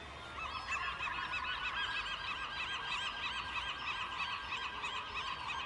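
Seagulls at a ballpark give a dense, continuous chorus of harsh, honking calls, overlapping and fairly loud throughout, with no pauses and no voices.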